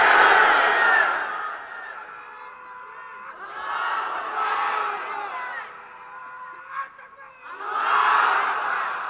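A large crowd at an Islamic religious gathering in Bangladesh roars a takbir chant in loud collective bursts, three swelling waves of many voices separated by quieter gaps.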